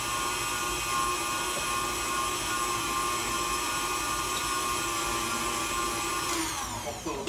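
An electric mixer whirs steadily through strawberry cake batter with food coloring, a constant close motor drone with a slight change in tone near the end.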